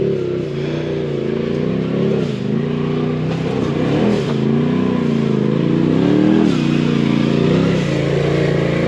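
Polaris RZR side-by-side climbing rocky trail ledges, its engine revving steadily and loudly up close with pitch rising and falling as it works over the ledges, no talk.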